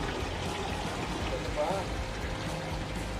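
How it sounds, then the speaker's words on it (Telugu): Clean spring water flows up from underground at Pandava Theertham, also called Gogarbha Theertham, in Tirumala, giving a steady, close, broadband rushing and splashing that stays even throughout with no breaks. "స్వచ్ఛమైన నీళ్ళు భూగర్భంలో నుంచి వస్తున్నాయి"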